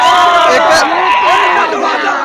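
A loud, close throng of party workers outside MP Dhairyasheel Mane's office cheers and yells, many overlapping voices forming a continuous roar that barely dips.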